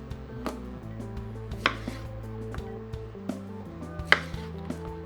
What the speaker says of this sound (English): I'm gonna go ahead and cut and juice some limes.